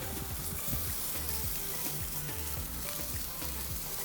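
Burgers sizzle steadily on a hot grill as their crust builds, a dense continuous crackle with low popping pulses throughout and no voices.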